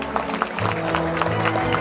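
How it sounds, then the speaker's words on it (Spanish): Applause for the chambelanes at a quinceañera, a dense continuous clapping from a crowd heard up close with voices mixed in. "Un fuerte aplauso para los chambelanes"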